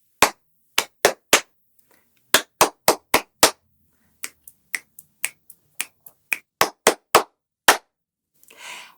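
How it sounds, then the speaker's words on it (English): Body percussion pattern of pats, claps and snaps performed in a steady repeating rhythm, crisp close sharp hits in groups of four with short pauses between phrases. "Pat, clap, snap, then clap."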